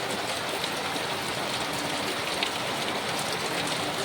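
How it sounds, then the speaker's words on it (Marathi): Heavy rain pouring down steadily, a dense, unbroken hiss of water close by with no pauses and no voices. "पावसाचा जोर बघा किती वाढलेला आहे"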